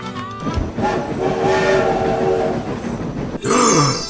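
A Pennsylvania K4 Class Pacific steam locomotive in a video game rumbles and hisses at a station with clanking and a brief whistle near the end, loud and close.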